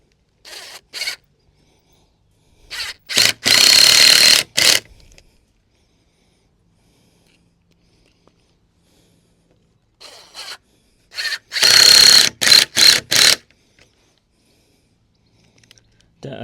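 Screws are driven into a cold frame base in short, separate bursts of a cordless drill or driver, loud and close, with quiet gaps between them.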